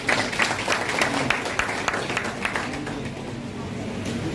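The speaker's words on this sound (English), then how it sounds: "Please round of applause for the Minister." Applause and clapping for the Minister at a laboratory complex commissioning ceremony, a steady crowd ovation with scattered sharp claps that fades slightly toward the end, with a low murmur of voices underneath.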